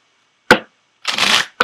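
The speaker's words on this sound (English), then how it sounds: "let's go ahead and pull an outcome card for you." Tarot cards riffled in short bursts: a brief shuffle, a longer sustained rustle of cards, then another quick snap, close and clear with no talking.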